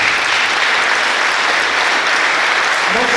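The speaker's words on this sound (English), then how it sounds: "Please give a round of applause to this panel." An audience at an island debate applauds the panel, dense steady clapping filling the room from start to finish.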